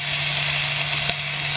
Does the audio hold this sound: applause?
no